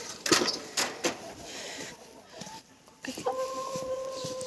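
Chickens clucking and scratching about in the sun, with scattered near clucks, rustles and clatters, then a steady high chirping of young birds toward the end, with brief voices in the background.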